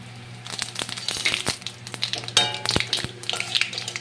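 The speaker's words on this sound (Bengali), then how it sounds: "ওই তেলেই আমি ফোড়ন দেব 2টো তেজপাতা, আর কিন্তু 2টো শুকনো লঙ্কা, আর গোটা জিরে 1/2 চামচ" Bay leaves, dry red chillies and whole cumin crackle in hot oil left from frying hilsa fish, an irregular close-up sputtering and popping with light stirring scrapes and a low steady hum underneath.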